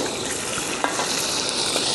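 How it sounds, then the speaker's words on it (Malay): Chicken frying in a pan for a Kluang, Johor dish, giving a steady, dense sizzle with a faint stir or clink partway through. "kita akan goreng dulu ayam kita"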